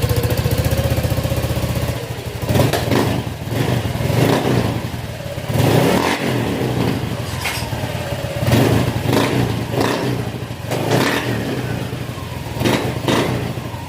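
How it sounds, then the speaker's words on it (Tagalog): A Honda Click 125 scooter engine, fitted with a swapped throttle body during a conversion toward 150 parts, revs loudly and repeatedly up close, its muffler popping and sputtering between the throttle blips. "pag binilit mo to, ganyan mo siya, parang nabibilawkan siya at pumuputok-putok yung kanyang muffler"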